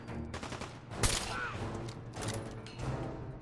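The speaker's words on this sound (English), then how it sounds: "I like shooting their legs off." Bursts of rapid gunfire in Fallout 4 rattle close and loud, with a sharp, heavy shot near the middle and more volleys after it.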